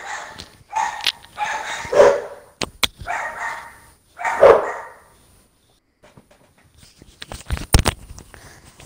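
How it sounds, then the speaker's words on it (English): A dog barks loudly nearby, a few deep woofs and yips with gaps between them, followed by scattered clicks and small household noises. "my dog just barking, I'm gonna mute my line"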